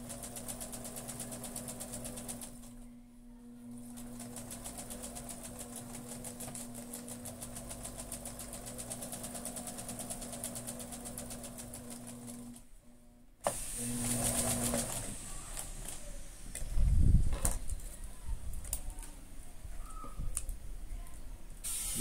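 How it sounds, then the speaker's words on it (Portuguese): A sewing machine runs steadily while stitching around the edge of a homemade fabric face mask, a close, continuous mechanical whir with a brief pause, then quieter handling noises. "Poderia eu tão somente fechar a abertura aqui com a máquina, mas eu gosto de bater uma costura em volta todinha"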